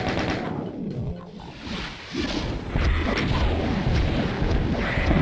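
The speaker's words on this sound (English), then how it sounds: "Pop those guys out with the rockets" Rocket launcher fire against enemies in Doom II, map The Pit, rendered as a string of loud gunfire-like blasts with rumbling explosions that grow denser and louder toward the end.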